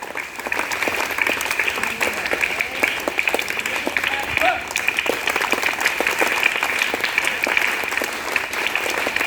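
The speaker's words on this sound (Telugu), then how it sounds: "give a claps to that" Steady, continuous applause from an audience at a school ceremony, lasting the whole stretch with a faint murmur of voices underneath.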